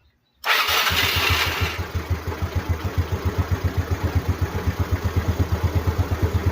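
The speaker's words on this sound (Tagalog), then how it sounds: "So i-start natin, tignan natin kung magdadrop yung battery." Motorcycle engine cranking briefly and catching, then settling into a steady, close, loud idle with a regular pulsing rhythm.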